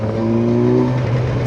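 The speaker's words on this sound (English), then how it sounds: "So I'm on 4th gear. I'm gonna do a roll on." A 2021 Kawasaki Versys 1000 motorcycle rolls on the throttle in 4th gear, its engine note a smooth, steady drone rising slightly in pitch, heard close with wind noise.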